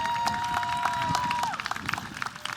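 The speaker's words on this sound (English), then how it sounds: "Give yourselves another round of applause." A graduating class at a school district ceremony claps, a steady wash of crowd applause with scattered claps standing out as it thins toward the end.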